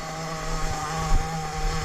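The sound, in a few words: Hobao Hyper VS2 nitro RC buggy engine idling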